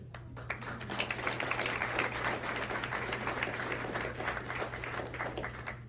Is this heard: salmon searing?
no